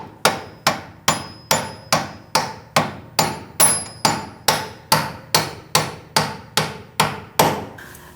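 A hammer taps a bolt through the rear control arm and knuckle of a 2008-2014 Mercedes-Benz C300, about sixteen sharp metallic strikes in an even rhythm, close and alone with no voices.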